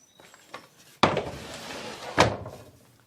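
A Peugeot Boxer van's sliding side door is worked, with a sharp metallic clunk, a rolling rumble along the runners, then a second heavy thud, close and fairly loud.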